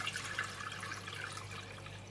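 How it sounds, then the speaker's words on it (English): Chicken stock pours into a cooking pot for a choy sum and fishball soup, a steady, soft liquid splash running throughout at low volume with no talking. "First I'm going to pour in the chicken stock."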